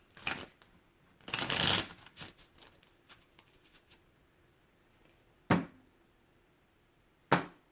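Several bursts of tarot cards being shuffled close by, a long riffle followed by shorter flurries and two quick final shuffles in a quiet room.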